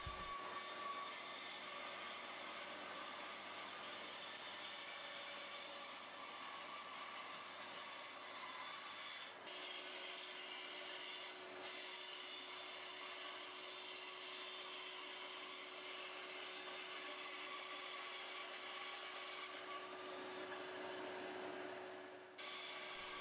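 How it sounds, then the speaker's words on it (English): A bandsaw cuts out the wooden stock of a toy pop gun, giving a steady, fairly faint whirring rasp that runs continuously for over twenty seconds with only brief dips. "I can then take it over to the bandsaw and get that shape cut out."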